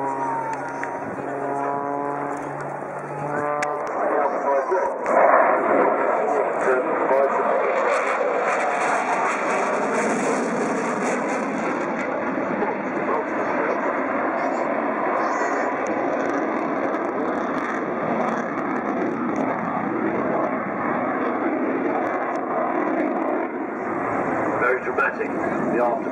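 Jet aircraft in a flying display at the Farnborough air show 2010, its engine roar building into a loud, sustained broadband rush that fills the scene, with a commentator talking over it.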